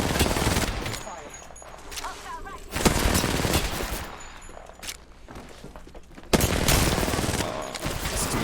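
Gunfire in the video game Apex Legends Arenas: loud close bursts of automatic shots at the start, a sharp volley near three seconds and another heavy burst late, with quieter gaps and game sounds between.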